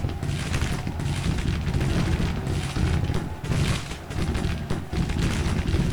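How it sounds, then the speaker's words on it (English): Artillery fire pounding Gatling gun positions in Grand Tactician: Civil War, a dense continuous battle din of booms and gunfire rolling without a break. "Gatlings are getting wrecked by artillery."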